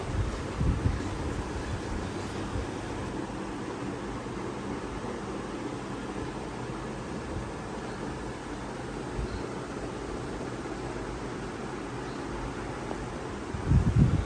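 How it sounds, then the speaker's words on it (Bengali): Strong wind blowing across a hotel balcony in Cox's Bazar facing the sea, a steady broad rushing roar buffeting the microphone, with a couple of louder gusts at the start and end. "প্রচন্ড বাতাস এ বারান্দা দিয়ে সামনে সাইমন দেখতে পাচ্ছেন"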